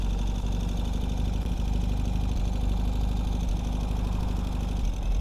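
Steady idling rumble of a 2021 Ural Gear Up sidecar motorcycle engine, loud and close, with a continuous low throb and no talk over it.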